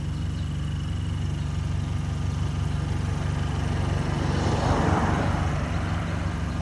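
A 2015 Acura TLX with resonator and silencer deleted plus a secondary cap rumbles at a steady low idle, its drone holding even, then swelling briefly louder near the end.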